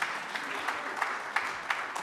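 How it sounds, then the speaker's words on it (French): Clapping from a seated audience at a French conference panel on artificial intelligence in agriculture, a steady dense patter with a few sharper claps over two seconds, no voices over it. "Bruno, on peut l'applaudir."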